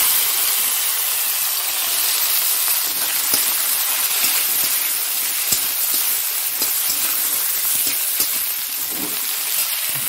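Eggplant sizzles and fries steadily in a hot pan while cauliflower chili is being cooked, a dense continuous hiss with small pops and crackles, close and even throughout, no talking.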